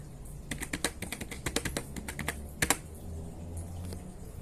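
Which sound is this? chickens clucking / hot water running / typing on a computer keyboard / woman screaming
typing on a computer keyboard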